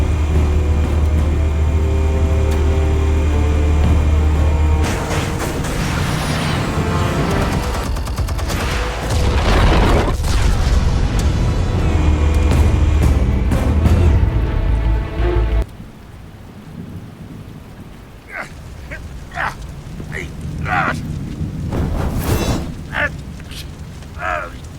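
Explosives detonate in a Batman video game with heavy, booming blasts and a long rumbling roar over the first half, then the sound drops to scattered crackles and sharp debris impacts.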